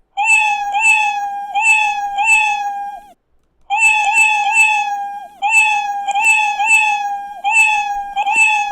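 A cat meow sound effect, triggered by clicks, plays over and over in a quick, steady rhythm, clear and loud, with a brief pause partway through before the repeats resume.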